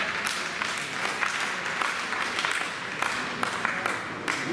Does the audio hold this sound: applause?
yes